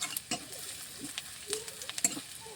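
Onions frying in a pan until browned for a pointed gourd and prawn curry, a soft, quiet sizzle broken by a few light clinks and scrapes of a spoon, close by and without voices.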